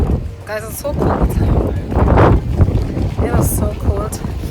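Wind buffets the microphone in a low, rumbling roar that swells and gusts throughout on a cold day in Cardiff, with a voice talking over it.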